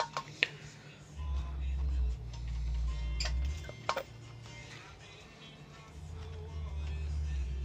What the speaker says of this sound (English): Bang it in the gear. You can see the clutch actually engaging.